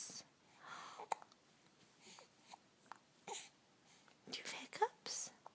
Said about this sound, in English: You have hiccups.